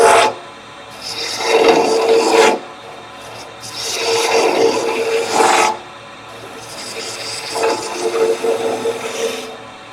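A round-stock turning tool cuts a bead on wood spinning on a lathe, three long, steady rasping passes with short quieter gaps between them.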